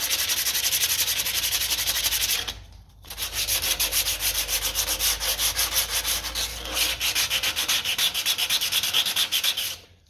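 Sandpaper is rubbed by hand on a metal rear end part of a 1955 Ferguson 20 TED TVO tractor, a continuous close rasping in quick back-and-forth strokes with one brief pause partway through.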